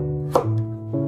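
Fresh ginger is cut into thin slices with a knife: two brief, close, crisp cuts land in quick succession, with no talking.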